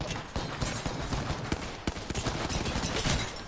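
Rapid, crackling gunfire from an Apex Legends firefight, dense bursts of shots rattling steadily for a few seconds with scattered sharper cracks.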